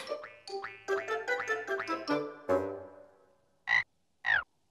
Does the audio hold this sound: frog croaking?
yes